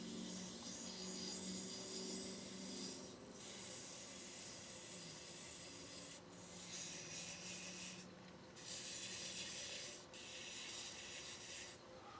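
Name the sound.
sanding wood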